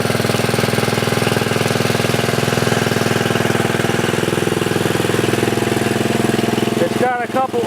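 Wheel Horse 502 garden tractor engine running at a steady idle with a loud, rapid, even chugging throughout, dropping away near the end as a voice begins to speak.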